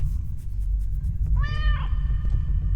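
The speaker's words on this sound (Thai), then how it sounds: "ก็นึกว่าไม่ร้องเหมียวซะละ ไม่ร้องนี่ผิดปกติเลยนะ" A cat meows once in the video game The Stairway 7 Demo, a clear, drawn-out mew with rising then falling pitch over a steady low rumbling background.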